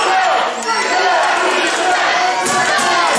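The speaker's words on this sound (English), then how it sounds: "We can hear the crowd now shouting dirty chavs" At a wrestling event, a loud crowd shouts and chants continuously, a dense roar of many voices with a few thuds under it.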